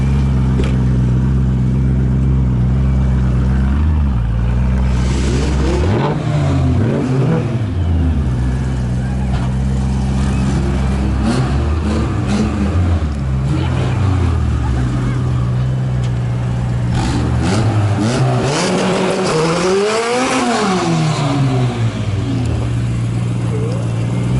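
A car does a burnout, its engine roaring loudly and steadily while the revs climb and fall in repeated swells. People talk and shout nearby over the noise.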